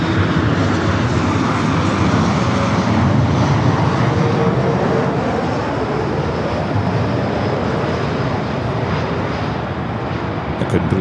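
A Japan 062 Heavy jet roars at LAX airport, its engines making a loud, steady broadband rush that holds for the whole stretch while a voice talks faintly underneath.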